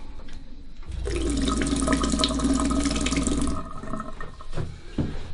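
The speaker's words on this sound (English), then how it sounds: "12-volt pump just below the sink outside, which feeds water in under power," Water gushes from an outdoor sink tap fed by a 12-volt pump mounted just below the sink, a loud steady rushing flow for several seconds that then cuts off, with no talking.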